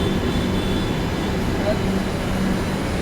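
A constant low rumble of trains and machinery hums through a busy metro station, with no clear voices standing out.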